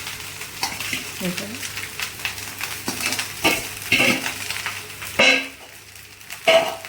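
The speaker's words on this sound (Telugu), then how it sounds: "అయితే మనం రైస్ని ఏం చేస్తున్నామో ఒకసారి కలిపేస్తున్నాం" Cooked rice for veg fried rice is stirred and tossed in a hot pan, the spatula scraping and clacking in irregular strokes over a soft, steady sizzle, with a few sharper metallic knocks.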